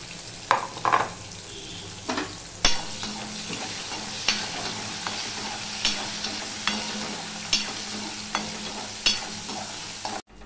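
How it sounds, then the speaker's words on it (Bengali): Crushed garlic and green chilies fry in hot oil in a pan, a constant low sizzle broken by regular scraping strokes of a spatula stirring them, close by and with no talking. "দেখো রসুনটা লাল লাল হয়ে ভাজা হয়ে গেছে।"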